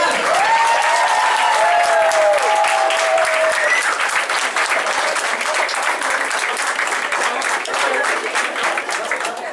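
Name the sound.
applause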